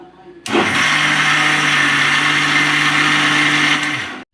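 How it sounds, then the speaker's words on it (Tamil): A kitchen mixer grinder blends jackfruit into a thick paste for ice cream, its loud, close, steady whir kicking in half a second in and running evenly for nearly four seconds before winding down. "இது நல்ல பேஸ்ட் ஆகுற வரைக்கும் நல்லா அரைக்கணும்."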